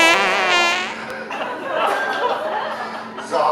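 A voice imitates a loud, drawn-out fart with buzzing, wavering tones, followed by chuckling and chatter from people nearby.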